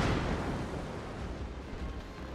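Dense, continuous booming rumble of heavy warship gunfire from the battleship Warspite in World of Warships, loud and sustained with no pauses, the low end churning throughout.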